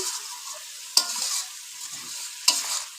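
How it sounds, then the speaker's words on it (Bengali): Spice paste sautéed in oil in a pan for rohu fish curry, a soft, low sizzle broken by two sharp clinks of a spoon against the pan. "মশলা ভালোভাবে কষিয়ে নিলাম মশলা থেকে তেল ছেড়ে দিচ্ছে"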